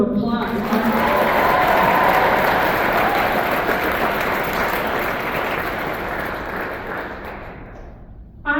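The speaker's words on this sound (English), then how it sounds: "So Annabella and Molly, let's give them a round of applause." Sustained applause from an audience honoring jingle dress dancers at a Native Heritage Month community gathering, dense and steady for several seconds, then gradually thinning and fading out near the end.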